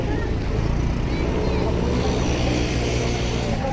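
Motorbike riding toward Bengaluru after a village fair, a loud continuous engine drone and rushing wind noise throughout.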